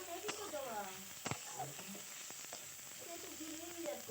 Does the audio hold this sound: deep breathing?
no